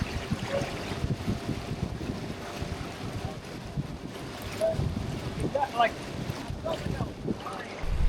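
A Bonafide XTR130 kayak under motor at full throttle in choppy water, with the low hum and churn of the motor and waves slapping the hull, mixed with heavy wind buffeting the microphone and a few voices.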